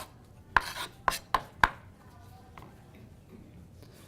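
A knife dicing spaghetti squash on a cutting board, four sharp chopping knocks in quick succession near the start, then quiet with faint background noise.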